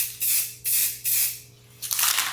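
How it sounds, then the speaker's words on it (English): Spray paint can dusting light overspray onto an artwork, four short hissing bursts of spray with brief pauses between, close and fairly loud, no talk. "The overspray should kind of give me a little bit of a dusting here."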